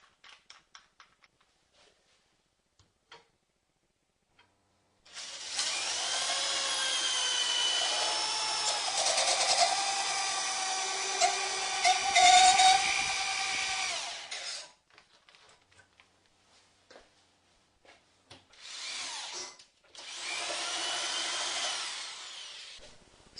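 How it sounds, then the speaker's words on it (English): A power drill turns a wooden blank through a homemade dowel maker, a chisel held by a C-clamp, in one long whirring run of about ten seconds, then two shorter bursts, with faint clicks and taps in the quieter gaps. "So here's a batch of dowels that I've made. They've all got a bit of a spiral on them from how they went through the dowel maker"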